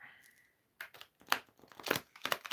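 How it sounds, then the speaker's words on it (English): Brisk papery rustling and flicking of tarot cards being shuffled, several quick bursts after a brief quiet moment, close up. "Give them a quick shuffle."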